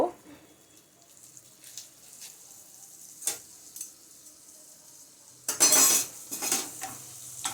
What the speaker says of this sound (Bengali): বাটারটা দিয়ে আমি পনিরটা দিয়ে ভাজবো এর মধ্যে